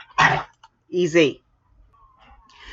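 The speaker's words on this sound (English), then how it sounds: "If you can hear the dogs in the background," Dogs bark in the background, a couple of sharp, fairly loud barks close together, then fading into quieter yips and whines, with a brief spoken word in between.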